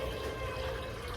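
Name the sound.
pouring water into pot for peach canning syrup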